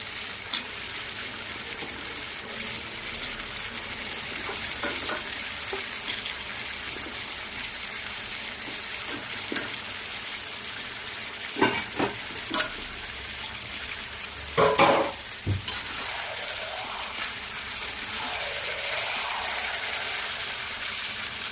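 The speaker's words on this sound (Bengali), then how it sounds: "এই পেঁয়াজগুলো এখন দিয়ে দেবো।" Sliced onions sizzle steadily in hot oil in a pan, a continuous close frying hiss broken by several scraping stirs and clatters of the spoon against the pan.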